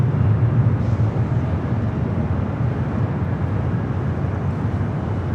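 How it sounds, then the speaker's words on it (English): A Delta Airlines Boeing 737-900ER on arrival at LAX makes a broad, steady roar of jet noise. It holds at a constant moderate loudness with wind rumble and no talk. "this arrival is Delta Airlines 2678 coming in from Las Vegas on the 737-900ER"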